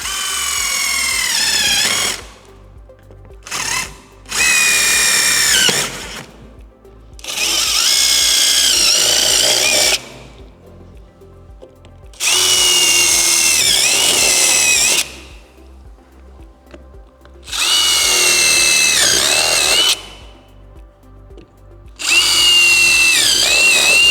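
A power drill bores guide holes for a jigsaw during a Harley-Davidson Street Glide amp speaker and lid install. Six loud bursts of high whirring, each a few seconds long, are separated by quiet pauses.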